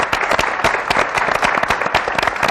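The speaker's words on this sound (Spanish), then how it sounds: "Y este aplauso impresionante," A television studio audience in a Spanish morning show claps in dense, loud, fast applause, steady throughout with no voices standing out.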